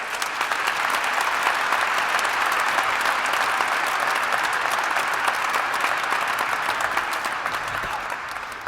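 Sustained audience applause at an awards ceremony in a city hall, a dense, steady roar of many hands clapping that holds evenly throughout and tapers slightly at the very end.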